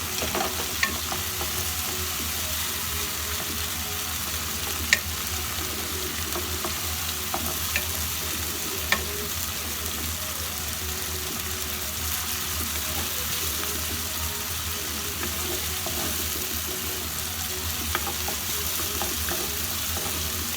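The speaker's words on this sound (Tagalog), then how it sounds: "Kaya lagi akong may ganito kasi nagtatalamsikan yung mga mantika." Cooking oil spatters while frying for a Filipino ground meat omelette, a soft, steady sizzle with occasional faint pops and crackles at moderate distance, no talking.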